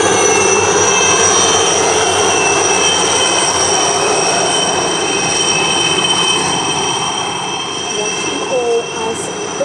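Police helicopter squadron flying overhead in a synchronized aerial salute at a ceremonial event in Mauritius, a loud, steady engine and rotor drone with whining tones that holds throughout.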